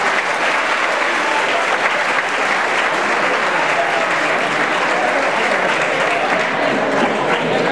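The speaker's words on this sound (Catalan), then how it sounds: "Un fort aplaudiment per la directora del centre, Fernanda Camí" Steady, loud applause from a crowd at a high school graduation ceremony, sustained clapping throughout with no pauses.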